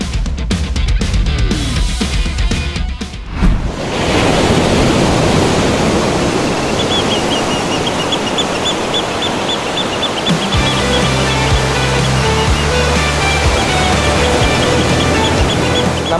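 Ocean surf roars at a beach in Gunung Kidul, a steady, loud wash of rushing water, with low tonal notes joining faintly in the latter half.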